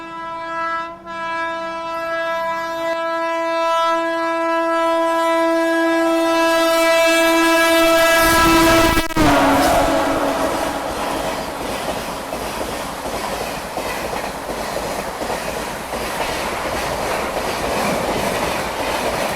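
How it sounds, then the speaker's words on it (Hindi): Sealdah Rajdhani Express passing through a station, a long sustained horn blast, then a loud rushing roar and rhythmic clatter of coaches close by. "तो ये आ रही है सियालदह राजधानी एक्सप्रेस।"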